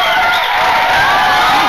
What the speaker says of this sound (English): Just gotta wait for the crowd to settle down.